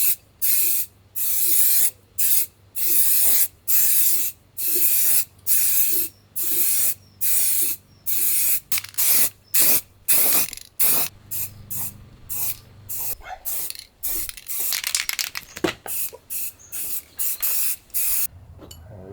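A spray gun lays paint coats onto a car bumper in a long run of short, evenly spaced hissing bursts, close and loud, ending in a longer, continuous spray.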